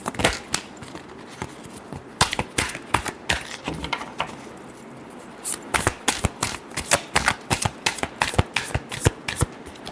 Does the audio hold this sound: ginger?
no